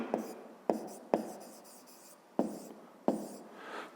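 A pencil writing on paper while working a fifth-grade maths exercise, heard as a few close, distinct scratchy strokes, each starting sharply and fading, with pauses between them and no talk.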